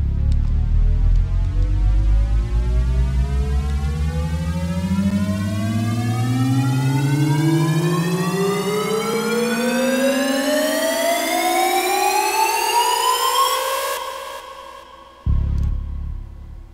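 Square wave synth from FL Studio Sytrus, with volume automation, sliding upward in pitch like a rising siren with a rich buzzy tone, steady and loud, then cutting off abruptly into a short low thump at the end.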